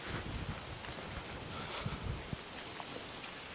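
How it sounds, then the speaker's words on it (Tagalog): Steady broadband wind roars and buffets the microphone throughout, with faint rustling underneath and no voices. "Ang lakas ng hangin."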